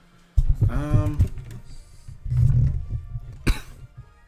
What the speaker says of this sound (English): It's like coughing to the microphone